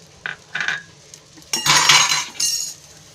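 Onions for kanda poha go into a cooking pan. A few light clinks of a utensil against metal come first, then a louder rustling, scraping burst as the pieces land, and a short clatter follows.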